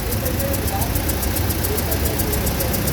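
A Toyota Fortuner with a low-power engine fault idles in a steady, continuous drone, with voices talking nearby.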